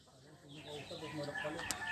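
Chickens cluck and murmur softly close by, with a brief sharp squawk near the end.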